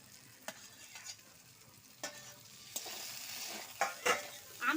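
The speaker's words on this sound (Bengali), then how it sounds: "আমটা দিয়ে আমি 2-1টা নাড়াচাড়া করে জলটা দিয়ে দেব।" Potatoes, spices and mango fry gently in a pan for a sour rohu fish dish, a soft sizzle under sharp, intermittent spatula scrapes and stirs that grow busier toward the end.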